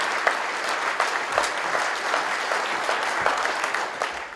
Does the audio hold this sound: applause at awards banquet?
yes